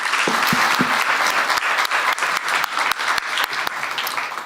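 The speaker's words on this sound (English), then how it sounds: "So warm round of applause." An audience applauds after a panel discussion, a dense, sustained wash of many hands clapping with individual sharp claps standing out, filling the whole stretch at an even level.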